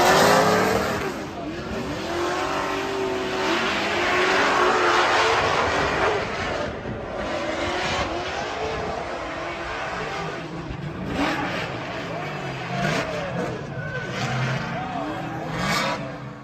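Race car engines roar and rev through a drifting battle at The Freedom Factory, loud and continuous with rising and falling pitch sweeps as cars push hard; crowd or commentary noise sits underneath.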